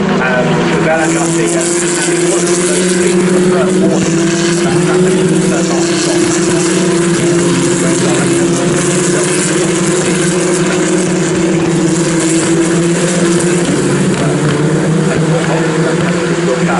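W Series single-seater racing cars lap Silverstone during a race, their engines a steady, loud droning whine that holds throughout, with commentary talking over the top.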